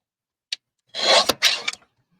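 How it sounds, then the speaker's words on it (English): Paper for a vintage seed packet being trimmed: one short tick, then two close rasping cutting strokes, with quiet before and after. "let's trim just a little bit more off."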